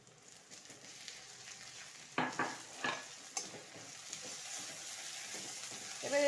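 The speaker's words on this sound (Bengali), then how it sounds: "এবার এটা আমি খুব ভালো করে ভেজে নেব।" Crushed ginger, garlic and green chilli paste sizzles steadily in a hot pan over browned onions, a soft continuous fry broken by a few louder stirring scrapes and clinks of a spoon against the metal.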